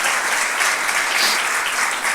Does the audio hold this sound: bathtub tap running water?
no